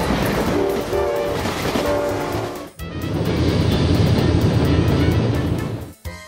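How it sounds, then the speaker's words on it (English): A commuter train rolls past close by, a steady loud rumble with rhythmic clatter and a brief tonal hum early on, cut by a short break midway before the roar resumes. "commuter train."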